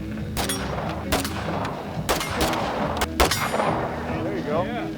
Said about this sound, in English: Take that thumb safety off, line up on that target, and go ahead and shoot at your will.